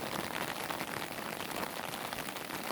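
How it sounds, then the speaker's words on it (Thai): Rain falling steadily on surfaces near a house window, a soft continuous hiss with faint patter throughout, no speech. "ถ่ายบรรยากาศฝนตกมาให้เพื่อนๆดู"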